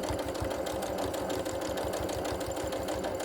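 A sewing machine stitches a hanging tab onto the edge of a quilt with a quarter-inch seam, giving a steady, fast mechanical whir with rapid regular needle thumps, close and continuous, with no talking.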